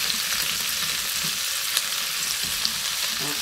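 Tofu, spam, spinach and chili stir-fry in a pan with a constant close hiss of frying and occasional soft scrapes and taps of a spatula, with no speech.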